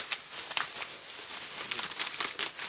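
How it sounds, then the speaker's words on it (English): Bubble wrap around RC car parts crinkles and rustles softly while being unpacked, a faint, irregular run of close crackling bursts with no talking. "Sorry for any noise. Everything is bubble wrapped."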